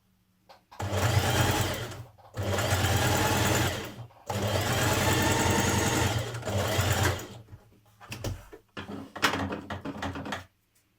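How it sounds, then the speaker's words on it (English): A sewing machine stitching under the facing of a New Look 6602 dress, in three long steady runs of rapid needle chatter separated by short pauses, then a few brief bursts, close and loud with no talk. "Now stitch under the facing, close to the edge on the wrong side."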